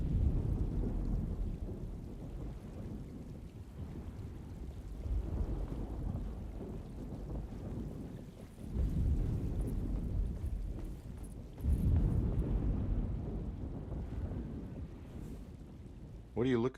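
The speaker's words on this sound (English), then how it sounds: "Just keeping an eye out for the storm." Rain and thunder of a storm in the video game Alone in the Dark, a steady wash of rainfall with low rumbling swells around the middle and end, running continuously as an ambient backdrop.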